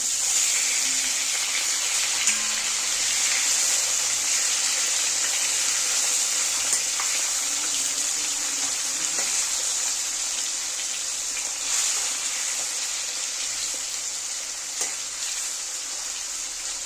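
Katla fish frying in a pan for a Bengali-style fish curry, giving a steady, close bright sizzle that holds evenly throughout with faint clatter, and no talking.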